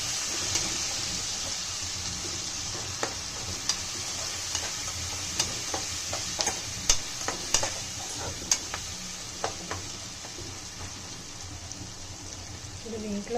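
Brinjal and eggs fry in a pan, a soft steady sizzle underlying irregular scraping taps from a spatula stirring, the clinks growing more frequent midway before settling back to the sizzle.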